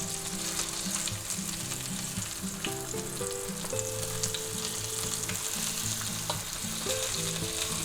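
Thick boneless pork chops sear in a cast iron skillet with a loud, continuous sizzle and crackle, while music plays softly underneath throughout.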